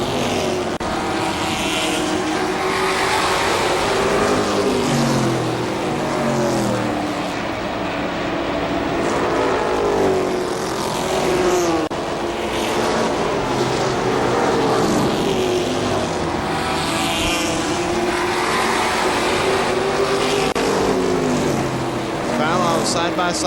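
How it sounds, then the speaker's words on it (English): Late model race cars circle a speedway in a main event, engines roaring loud and continuous with pitch swelling and fading as cars pass, under steady race commentary. "Vallow now riding that high line, looking at working on the 70 of Joe Hill."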